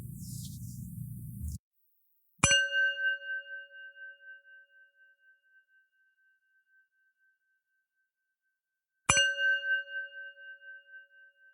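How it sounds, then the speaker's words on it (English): Two clear chime strikes, each ringing out with a long, pure sustained tone that slowly fades into silence, the second arriving several seconds after the first. "The show will begin after the following chimes."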